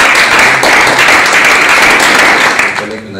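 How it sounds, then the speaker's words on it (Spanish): Applause fills a hall at a military doctors' college ceremony on aerospace flight physiology, a loud, dense wash of clapping that holds steady throughout and tapers slightly at the end. "Un aplauso para"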